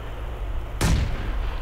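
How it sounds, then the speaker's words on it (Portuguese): A grenade blast in PUBG (PlayerUnknown's Battlegrounds), heard as one loud, sudden burst with a deep low rumble that fades over about a second, over steady game background noise. "Nossa, já me acertou a granada já."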